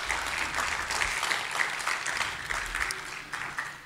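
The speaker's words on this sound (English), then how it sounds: "Let's give them one more round of applause" Crowd applause at a night of worship event, many hands clapping steadily with a brisk, even texture and faint murmur underneath throughout.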